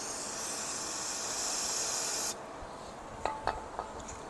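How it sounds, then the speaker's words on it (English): Brake cleaner sprayed from an aerosol can onto a Harley Shovelhead/Ironhead brake light switch: a loud, steady hiss of about two seconds that stops abruptly, followed by a few faint clicks and taps. "Spray it down to get some of the crap off of it."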